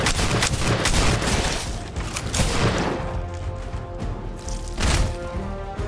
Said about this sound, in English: slam fire this by holding the trigger down on your other hand and then just pump it away!